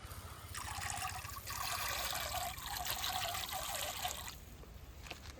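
Calcium nitrate going into a drum of water with a steady trickling, pouring wash that runs for about four seconds, then ends, close and moderately loud, with no talk.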